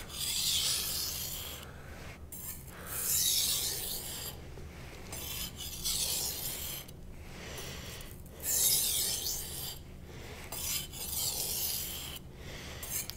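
A knife blade rasps back and forth across a 1000-grit whetstone in slow, repeated strokes, each scrape swelling and fading in a steady rhythm, close and fairly loud with no voices.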